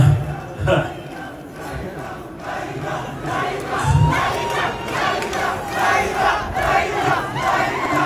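A loud crowd cheers and shouts for a Rwandan singer at his press conference, a roaring swell of voices that rises and falls and stays close and continuous throughout.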